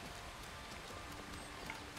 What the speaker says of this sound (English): I really like the noise of that waterfall.